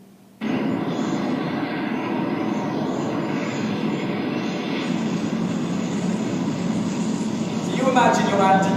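A 50% scale Bloodhound rocket fires in the Mojave Desert: a sudden ignition gives way to a loud, sustained roaring blast that holds steady for several seconds and grows harsher near the end.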